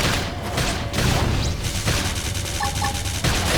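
Flame grenade blasting in the Xenoblade Chronicles X Definitive Edition video game, a rapid string of loud booming, gunfire-like impacts amid busy combat effects, with no clear talking.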